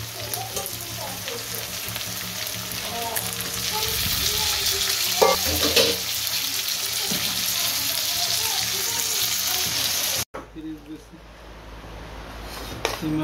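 Food cooking in mustard oil in a pan gives a loud, continuous frying sizzle with stirring scrapes, which cuts out abruptly and returns quieter at the end.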